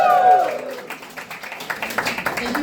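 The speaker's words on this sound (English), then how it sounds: "Thank you for applauding for my divorce." Short, scattered clapping from a comedy club audience during a stand-up set, following a brief vocal sound at the start and rising into uneven claps of moderate loudness.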